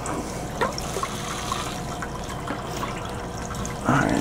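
Water drains steadily through a Hygger aquarium gravel cleaner siphon, a continuous close rush with a few brief splashes and a stronger gush near the end.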